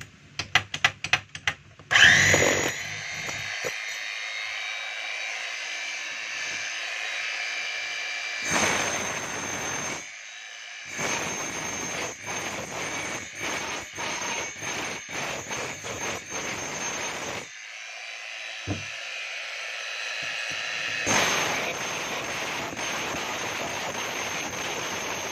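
A Stanley STHM5 jack hammer being test-run, loud and close: harsh, rattling power-tool bursts that start and stop several times across the clip, separated by short pauses.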